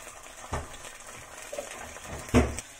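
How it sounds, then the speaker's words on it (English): Vegetables and big prawns stir-frying in a pan: a soft continuous sizzle broken by a few louder knocks and scrapes of a utensil against the pan, one early and one near the end. "So I'm going to stir fry that."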